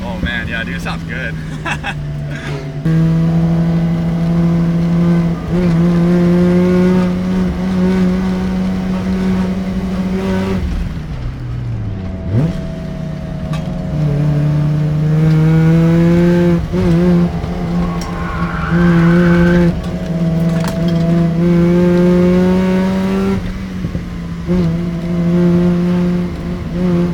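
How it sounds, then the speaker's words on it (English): A loud Mazda RX-7 FC rotary engine drones steadily with a smooth, buzzy exhaust note, rising and falling as the revs shift on a mountain road run, while people talk over it. "But this is just all exhaust, so it's really, really nice to hear."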